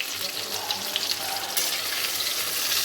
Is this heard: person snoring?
no